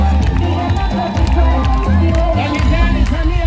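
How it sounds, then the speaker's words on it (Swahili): A large crowd at an outdoor political rally claps and cheers loudly and continuously, voices shouting and whooping over rhythmic clapping, with loudspeaker music or drums thumping underneath. "Piga makofi kwa daktari."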